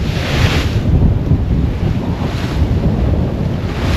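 Steady, loud roar of 25-knot wind blowing across a sailing yacht on a beam reach at about 7.7 knots off Grenada, with the rushing wash of waves against the hull throughout and no voices.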